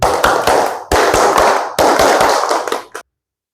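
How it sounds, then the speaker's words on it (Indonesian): Rhythmic Pramuka (scout) clap done three times by a classroom group, each round a quick patterned burst of loud hand claps and slaps, with short pauses between rounds and no talking. "tepuk pramuka 3 kali"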